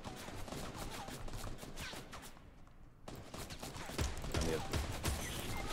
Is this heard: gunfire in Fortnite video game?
yes